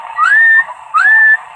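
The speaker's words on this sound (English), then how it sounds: "I'm going to whistle and see if this thing's got forward modulation" A person whistles twice into a CB radio microphone on a Luiton LT-318 export AM/FM set, each note a rising, sustained tone over a steady radio hiss.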